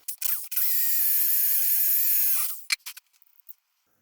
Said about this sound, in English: I'll drill through one, then plug and bolt that one in